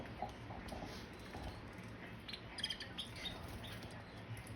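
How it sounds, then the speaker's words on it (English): Caged canaries chirp faintly, several birds giving scattered high tweets and short calls over a low background hiss. "I think there's 12 birds in this cage."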